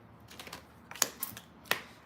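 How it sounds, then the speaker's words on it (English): Tarot cards being shuffled in a few quick, close riffling bursts with faint taps in between, no talking. "Let's do like extra shuffles."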